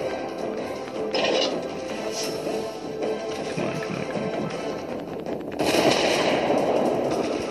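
Warship guns fire in World of Warships with scattered booming blasts and crackling impacts over a steady background rumble, moderately loud.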